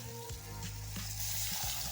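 Masala frying in a pan for a village-style fish curry, stirred with a spoon, a steady loud sizzle broken by several scraping stir strokes, with no talk.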